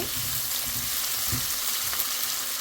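Chopped onion frying in a pan for a spicy chicken fry, a steady broadband sizzle that holds evenly throughout, with a few soft stirring clicks and no talking.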